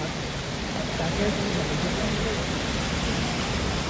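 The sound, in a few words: waterfall on Kedarnath trek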